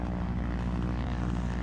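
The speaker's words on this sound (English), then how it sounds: "Sighted float-type plane at 3 miles." A float-type plane's propeller engine drones steadily, a loud, continuous low hum with an even throb and no break.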